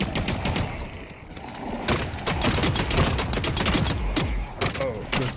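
The Manticore gun firing in The Cycle: Frontier, a video game: dense, loud, rapid bursts of close gunfire rattle almost nonstop, with brief gaps and faint voices underneath.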